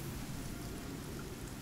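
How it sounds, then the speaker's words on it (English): Rain in the survival game Icarus makes a steady, even hiss of falling drops, low and unbroken, with no other sounds. "It's because it's raining in here."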